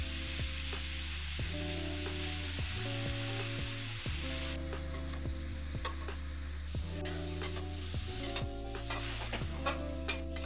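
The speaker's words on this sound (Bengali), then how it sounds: "এরপর আমি পালং শাকগুলোকে ছেড়ে দিচ্ছি এবং খুব ভালোভাবে নাড়াচাড়া করে দেব।" Spinach tossed into a hot pan hisses and sizzles steadily while a spatula scrapes and stirs in repeated strokes, with a constant low tonal hum running underneath and no speech.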